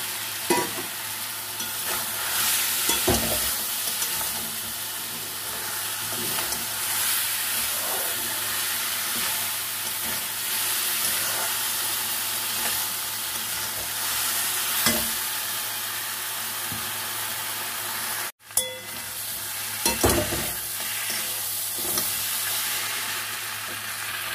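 Crab curry with fried potato pieces is stir-fried in a pan, a continuous close sizzle and hiss. A spoon scrapes and knocks against the pan now and then, and there is no talk.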